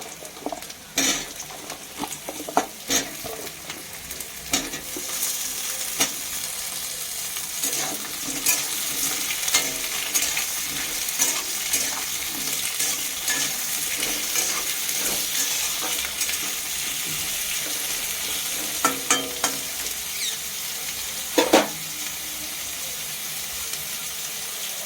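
Potato and eggplant pieces frying in a pan for a Bengali dish, an ongoing sizzle broken by repeated scraping and stirring knocks of a utensil against the pan, close and fairly loud.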